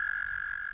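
A frog croaks in one steady, continuous call lasting under a second, clear and close with no voices over it.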